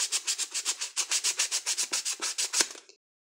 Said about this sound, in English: I just grab my 220 sandpaper again